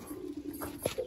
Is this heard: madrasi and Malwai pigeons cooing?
yes